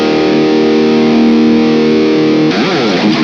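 An electric guitar runs through a Kemper profiling a Marshall amp, a loud, heavily distorted sustained chord that rings steadily before shifting into a wavering, warbling modulated sound near the end.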